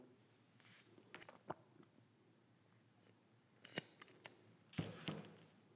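Scissors cutting through a fabric seam while sewing a bag, a few faint scattered snips and rustles close by with a couple of louder clicks near the end.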